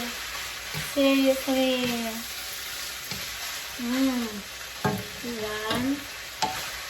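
Pork sizzles and fries in homemade teriyaki sauce while being stirred in a pan, giving a steady crackle with scraping strokes as someone talks briefly over the cooking.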